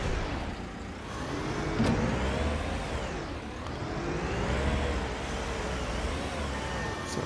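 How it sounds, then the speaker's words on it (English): Scania truck engine in the Construction Simulator game, driving on a gravel pit run: a steady, droning motor with slowly rising and falling pitch, continuous throughout. "A couple of runs in the Scania truck to the gravel pit."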